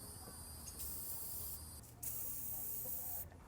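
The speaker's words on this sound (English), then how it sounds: "To increase chances of everything going well, I'm gonna put penetrating oil there too." Penetrating oil hisses from an aerosol can onto a 12 mm bolt while work is done on a Toyota Sienna's air conditioning, three short, quiet spray bursts in close succession.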